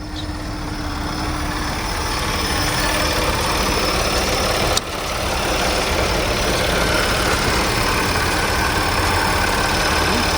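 A supercharged Audi S5 engine idles steadily and loudly, a continuous low rumble with a faint high supercharger whine running through it, broken by one brief click near the middle.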